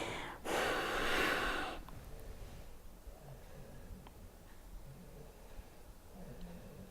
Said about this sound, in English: As you exhale, try to suck the belly in